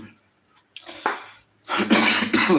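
A few harsh coughs, first a short isolated one, then a louder burst of coughing near the end, close to the microphone with no talking.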